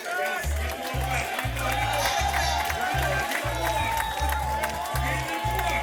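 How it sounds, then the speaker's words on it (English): Applause rises from an audience at an elders' ceremony, crowd noise running steadily throughout while a rhythmic low pulsing beat and a voice carry over it. "A lot of clapping. Yes, give them more clap."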